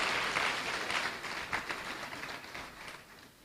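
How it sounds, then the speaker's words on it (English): An audience at a university graduation congregation gives a short, fairly soft round of clapping. It is steady at first and thins out gradually over three seconds. "Another round of applause for Mrs."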